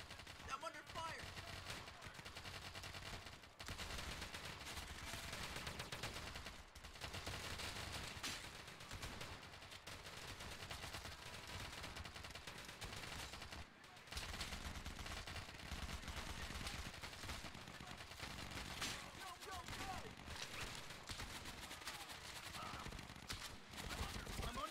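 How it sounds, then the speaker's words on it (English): Sustained gunfire in the World War II shooter Easy Red 2, dense overlapping rifle and machine-gun shots forming a constant faint battle din with brief pauses and radio-style voices. "I'm under fire."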